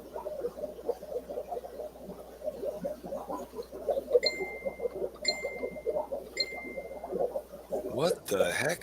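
A phone notification chime sounds three times at roughly one-second intervals, clear bright dings over a steady backdrop of people chatting, followed by a short rustling burst at the end.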